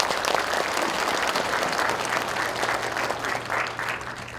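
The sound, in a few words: audience applause at a county meeting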